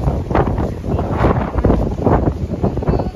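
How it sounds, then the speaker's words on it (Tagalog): Strong wind on a beach in the UAE buffets the microphone in loud, rumbling gusts, rising and falling continuously throughout. "Malakas na hangin."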